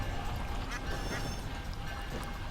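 Ducks quack on a fenland waterside, their calls faint and scattered over a steady dense background hum that runs the whole time.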